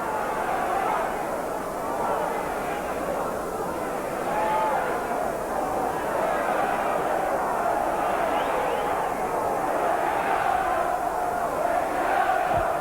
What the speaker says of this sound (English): Quite a good crowd.